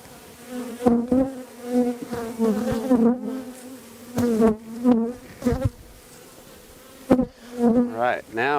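Honey bees buzzing close by during a hive inspection, a loud wavering hum with sharp bursts as individual bees pass near, continuous throughout.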